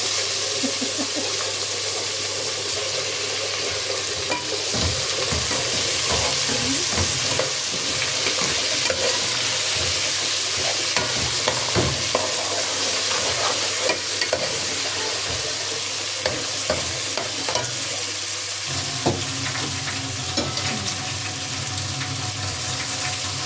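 Rice is stirred into a frying pot while preparing a Ramadan iftar meal, giving a steady sizzle with scraping stir strokes and light watery bubbling throughout, close and moderately loud with no talk.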